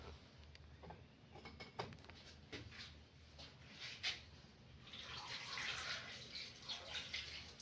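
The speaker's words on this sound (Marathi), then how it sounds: "तर इथे नळ आहे, तर नळाखालीच वॉश करते." A fish is rinsed under a running tap, with faint splashing water and scattered knocks and clatters, the flow growing fuller and steadier toward the end.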